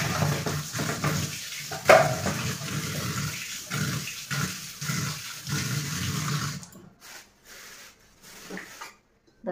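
Chicken pieces going into a pot of spiced onion and garlic masala, giving a steady frying hiss with clattering handling noises that fades to quieter, intermittent sounds near the end.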